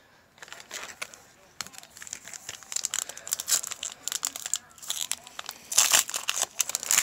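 Foil packs of 2018 Panini Contenders football cards being torn open, bursts of close crinkling and ripping foil growing louder toward the end.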